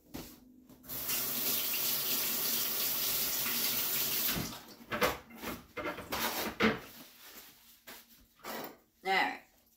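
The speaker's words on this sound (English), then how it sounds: "so I'm going to rinse my hands" Kitchen tap running steadily for about four seconds while hands are rinsed, then stopping, followed by splashes, clunks and a voice speaking nearby.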